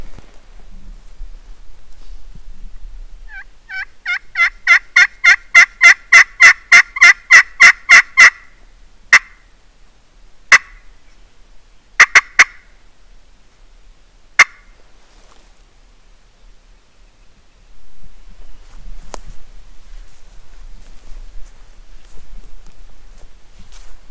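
Merriam's wild turkeys gobble in Wyoming hunting country, one long rapid rattling gobble followed by a few shorter scattered bursts, distinct against quiet surroundings and no talk.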